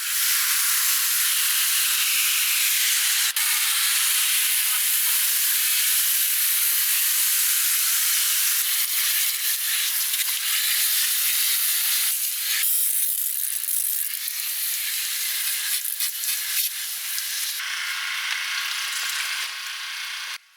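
Water sprayed steadily into the door jambs of a dusty Ford Escape, a continuous close hiss with slight shifts in pressure and direction, running alone for about twenty seconds before cutting off.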